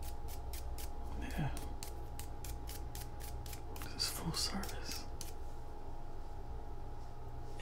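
Scissors snip hair in a quick, steady series of crisp, close clicks at a barbershop, with faint whispering in the background.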